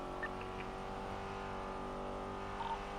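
Car idling and pulling up in the GTA NoPixel roleplay game, a steady low engine drone at moderate distance with a faint tonal whine over it, no voices.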